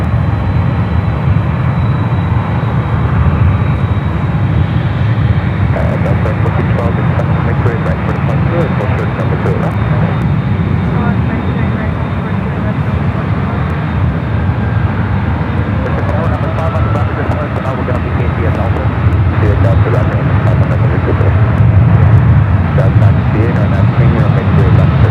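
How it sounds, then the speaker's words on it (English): A Boeing Dreamliner jet airliner departing San Francisco airport for Tokyo Narita, a loud continuous roar of engines filling the whole clip, with a person speaking over it. "This is the flight heading back to Tokyo Narita in the Dreamliner."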